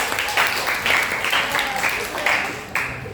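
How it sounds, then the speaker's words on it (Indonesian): Scattered claps rise into a burst of applause from a small group of students in a school guidance class, with voices chattering underneath. "Oke, tepuk tangan untuk teman-teman yang besar."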